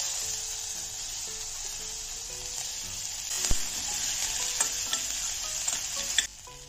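Chopped onions sizzle steadily in hot oil for a fish curry, a continuous near frying hiss with scattered pops and a few scrapes of stirring, no voices.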